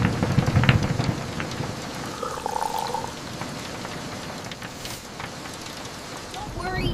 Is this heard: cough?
no